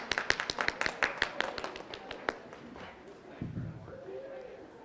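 A brief burst of hand clapping from a small group, sharp and quick at first, tapering off after a couple of seconds as voices follow.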